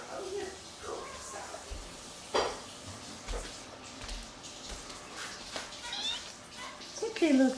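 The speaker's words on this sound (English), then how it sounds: "Here is Laura drying off a kitty From the SPCA. after just having a bath." A kitten from the SPCA, wet after a bath and being towel-dried indoors, gives a few soft meows amid rustling and light household clatter, with people talking nearby.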